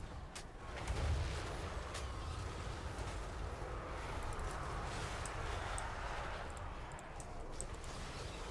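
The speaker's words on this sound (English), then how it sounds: "they can summon the exploding squigs" Exploding squigs blowing up in the game Skarsnik's War Under the Mountain, heard as a dense, continuous rumble of booms and crackling blasts that sits loud and steady throughout, with no talking.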